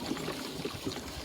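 Pre-mixed two-stroke fuel trickles and splashes steadily into the tank of an old Polaris XC snowmobile, a brief, soft, continuous pour heard up close.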